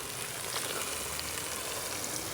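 Steady close sizzle of spice masala frying in ghee for a village-style matar masala, continuous and even throughout with no voices.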